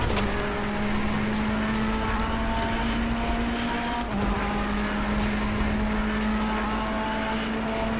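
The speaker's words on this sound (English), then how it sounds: "how I'm changing gears is my paddle shifts" A race car engine in Assetto Corsa Competizione drones loudly and steadily throughout, its pitch held high, with a brief dip near the middle where a paddle-shift gear change cuts in before the engine picks back up.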